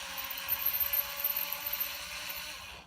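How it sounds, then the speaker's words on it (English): Plate screws come out of the neck plate of a Mexican-Indonesian Telecaster build, heard as a steady close-up ratcheting, clicking mechanical whir that runs for a few seconds and then stops, with no voices. "So the first thing we're going to do is remove the plate screws."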